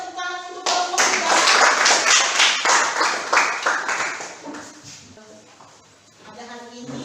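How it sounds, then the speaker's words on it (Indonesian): A classroom of students claps for a student group, a burst of dense close clapping that swells for several seconds and then thins out, with children's voices talking before and after. "Berikan tepuk tangan untuk kelompok kita."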